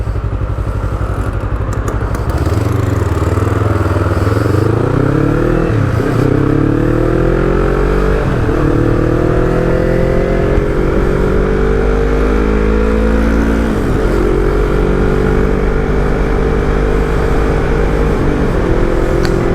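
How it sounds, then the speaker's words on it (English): A modified Yamaha R3 motorcycle with a flash-tuned ECU, its engine and exhaust revving and pulling through repeated rising sweeps, loud and close, with brief drops between each climb. "Yeah, the exhaust is not obnoxiously loud."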